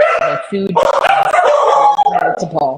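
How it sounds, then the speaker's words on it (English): A dog barks repeatedly in short, sharp yips mixed in with a person talking over them, close and fairly loud throughout. "And so apologies for the barking."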